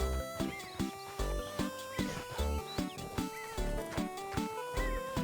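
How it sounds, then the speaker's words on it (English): Rhythmic hoofbeats of a trotting horse in a video game keep a steady pace beneath loud, melodic game music. "Oh, look at the horsey go!"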